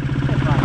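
Old moped engine idling outdoors in a field, a close, steady low putter with a pulsing rhythm throughout the brief moment.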